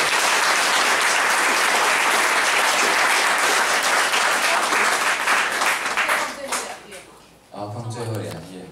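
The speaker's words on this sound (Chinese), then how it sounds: "我们这次热烈的掌声" Loud audience applause fills a hall at the close of a talk, sustained dense clapping that fades out near the end as a voice begins speaking.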